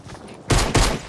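Two loud, close bursts of Fortnite gunfire crack out in quick succession after a quieter stretch, with no talking over them.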